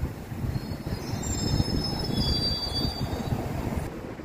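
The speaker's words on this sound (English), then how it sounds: "Jubilee line train, Stanmore bound, going into platform" A London Underground Jubilee line train rolls into a platform with a low rumbling roar and high-pitched squealing wheels, steady and fairly loud throughout, no voices.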